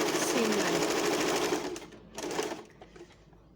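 A domestic sewing machine stitches a French seam on a lined garment, running in a fast, even whir for about a second and a half, then slowing, pausing, and giving one brief final burst.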